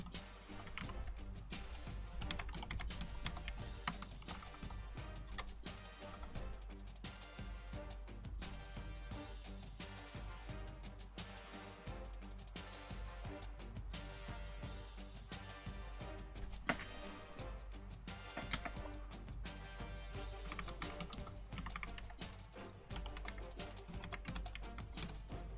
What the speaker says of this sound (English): once I get done typing all this shit in